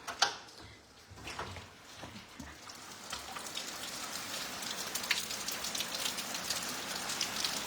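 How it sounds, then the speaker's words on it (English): Rain falls steadily outside a bedroom balcony in a tropical place, a soft, continuous patter on surfaces with scattered nearer drips and ticks that build slightly over time. "There's just something different about like a rain in a tropical place."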